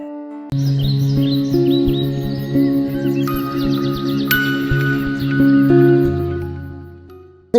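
Birds at a college-campus bird sanctuary chirp and call in overlapping sustained songs, some notes long and tonal and others in quick repeated bursts, loud and clear with no voices.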